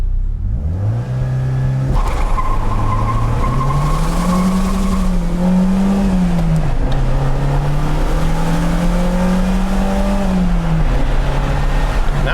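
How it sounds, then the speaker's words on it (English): A 1987 Dodge Daytona Shelby accelerates hard from 0 to 60, its engine note climbing through several rising and falling sweeps as it shifts, with a brief tire chirp. "All right, here we go, 0 to 60."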